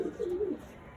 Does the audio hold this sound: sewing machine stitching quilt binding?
no